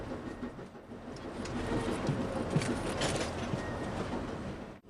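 Passenger train running on rails through New Mexico's Las Cruces country, heard from on board as a steady rumbling roar with faint rhythmic clatter and mechanical rattles, continuous at moderate level with no talk.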